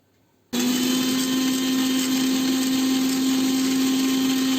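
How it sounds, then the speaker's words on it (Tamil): After a brief silence, a blender whirs up and grinds the ingredients for a sweet lassi, holding a loud, steady, high-pitched motor drone to the end. "இப்போ இதை நம்ம நல்லா அரைச்சிடலாம்."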